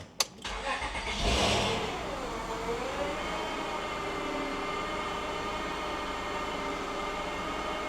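A car, reassembled after repair work with its plates and interior refitted, cranks and fires up with a sharp catch, surges briefly in a rev, then settles into a steady, rising engine drone, fairly close and with no talking.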